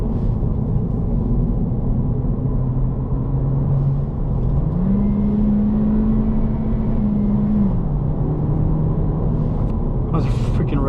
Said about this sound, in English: I love downshifting in a manual. You can go from 5 to 4th,